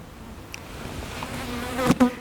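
Honey bees buzz steadily inside a hive that has been fed dry sugar on paper and wire, a close, continuous hum with a couple of louder passes near the end.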